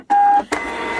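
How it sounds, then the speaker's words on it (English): A label printer gives a short steady electronic beep, then a brief whirring feed sound that runs to the end, close and clear. "There's a good label printer. Good label printer. Give Mummy some labels."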